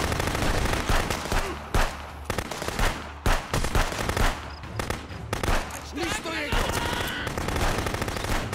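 Pistol shots crack out in the shooter XDefiant as a string of sharp, loud reports in irregular bursts, mixed with other gunfire and explosions, while a voice talks over the action.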